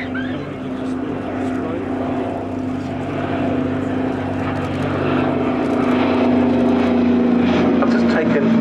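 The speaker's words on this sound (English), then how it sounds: "From your left again then, the DC-3." A Douglas DC-3 propeller airliner passes at an air show, its piston engines droning steadily and growing louder, with a steady hum, a commentator talking over the public address and crowd noise throughout.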